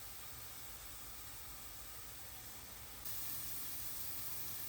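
Onions frying in a pan for a sweet meatless tajine, a steady broad sizzle close by that grows slightly louder partway through, with no talking.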